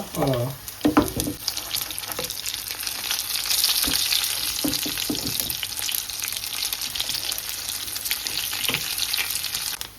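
Fish frying in oil in a beach restaurant-style kitchen, a continuous close sizzle with bursts of crackle and scraping or stirring clatter, a few short voices heard in the background.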